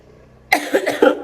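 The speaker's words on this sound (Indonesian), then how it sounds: "Maaf lagi batuk ya." A person gives one close, loud cough, a sharp burst that breaks into a couple of rough pulses after a moment of near silence.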